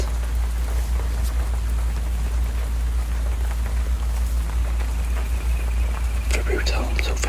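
Steady rain falling on a night street, a dense continuous hiss with scattered drips and patters, plus a few sharper splashes near the end, with a low constant rumble underneath.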